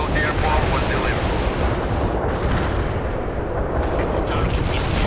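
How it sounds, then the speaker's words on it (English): A fuel air bomb detonates in a combat video game as a loud, sustained roaring blast rumble that fills the whole stretch without letting up. "The fuel air bomb was delivered."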